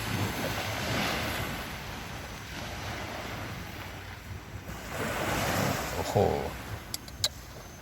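Sea waves break on the shore at Hat Sai Kaeo beach, a broad rushing surf that swells and recedes under steady wind buffeting the microphone, with a few sharp clicks near the end.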